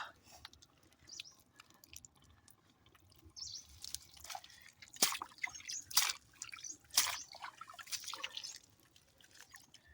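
Water is splashed into a crab burrow in the mud of the Sundarban forest, making soft wet drips and squelching splashes in short bursts, a few louder sloshes standing out near the middle, with faint voices at times.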